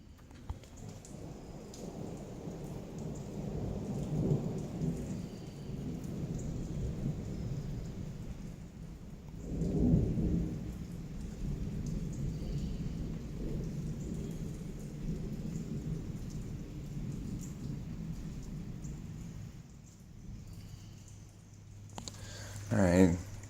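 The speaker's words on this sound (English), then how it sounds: "just some rolling thunder, rolling thunder." Rolling thunder rumbles through steady rain in the mountains, with a deep swell peaking midway and a loud rumble near the end, the rain a constant wash underneath.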